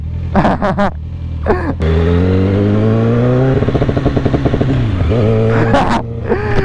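A 2007 Yamaha R1 sportbike revs hard on a night ride, its engine note climbing through the gears in loud rising sweeps with a brief dip and another surge near the end, close and dominant.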